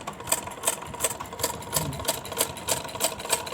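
A sewing machine with a newly adjusted shuttle stitches slowly and steadily with a regular mechanical clatter, close and loud, with no talk.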